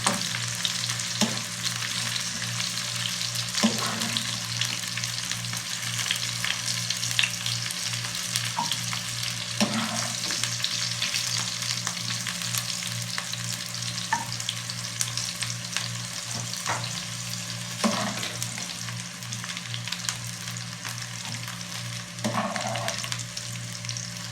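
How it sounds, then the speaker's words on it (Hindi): Okra sizzles steadily in hot oil in a pan, a constant crackling hiss broken by occasional stirring scrapes. "अब भिंडियाँ तकरीबन फ्राई हो चुकी हैं।"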